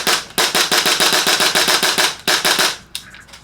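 A Tokyo Marui MWS gas blowback airsoft rifle fires a rapid burst of sharp, snappy cracks close by, about eighteen shots in quick succession with a brief pause, then trailing off into a faint clatter.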